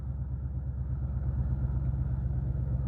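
A 2016 Ford Mustang GT V8 idles close by in a steady, low burble, its deep exhaust pulsing evenly with no voices.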